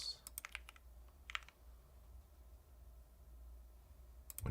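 Keystrokes on a computer keyboard, including backspace presses, come in a few quick clustered clicks near the start and a lone tap later, then a stretch of quiet room hum and a final click at the end.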